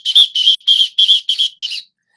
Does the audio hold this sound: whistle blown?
yes